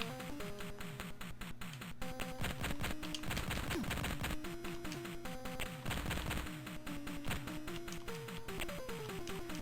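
Rapid gunfire from the 1993 Tandy Color Computer 3 game The Contras, a stream of sharp electronic shots firing in quick succession over a steady chiptune backing, loud and continuous throughout.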